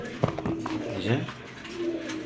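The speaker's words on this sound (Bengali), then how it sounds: "তো এটা একটা ফিমেল কবুতর শেডেল" Pigeons in a loft, including a female shedel racer, give soft, low cooing calls close by while someone talks over them.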